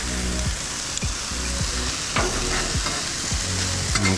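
Broccolini and mushrooms sizzle loudly on a vegan griddle, with a spatula scraping and tossing them in a steady rhythm of roughly two strokes per second, close and with no talking.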